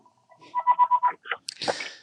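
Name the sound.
house telephone ringing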